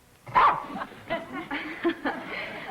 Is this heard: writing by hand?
no